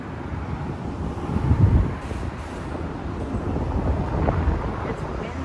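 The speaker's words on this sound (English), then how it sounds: "It's windy out here." Steady wind roars and buffets the microphone outdoors in Queens, New York, a broad low rumble that swells briefly midway and never lets up.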